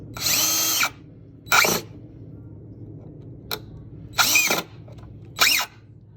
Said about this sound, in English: I'm using my favorite DeWalt drill to screw in each screw